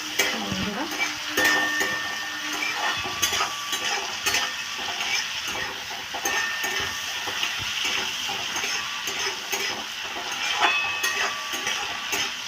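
Shrimp frying lightly in a pan, a steady close sizzle with repeated scraping and stirring strokes throughout.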